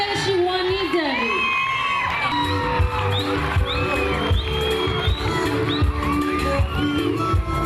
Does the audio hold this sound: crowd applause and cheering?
yes